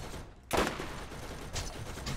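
Enemy gunfire aimed at the player in Borderlands, sharp bursts of shots cracking out, a loud volley followed by more scattered fire.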